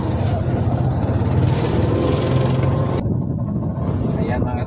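A tuk-tuk engine in second gear, a steady loud drone running continuously and close, with a voice talking over it.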